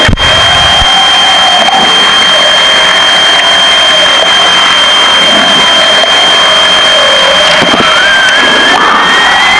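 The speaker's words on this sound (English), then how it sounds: "Okay, starting left engine." The left engine of a Piper Seneca twin starts and runs, a loud, steady, dense roar with a constant whining tone filling the whole stretch at close range.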